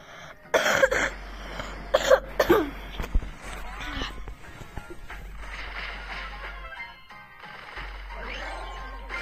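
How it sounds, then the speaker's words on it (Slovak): A few short coughs up close, then quieter rustling and muffled background noise with a low steady hum underneath. "iba kašlem zatiaľ"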